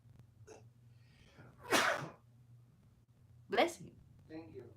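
A person sneezes during a tarot reading, with two sharp bursts set against a low steady hum and a little background speech.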